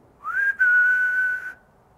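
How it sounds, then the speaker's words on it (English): A single clear whistle rings out in a cave. It holds a steady pitch for just over a second, breaks off very briefly and stops, with nothing else heard. "Is that you making the owl whistle?"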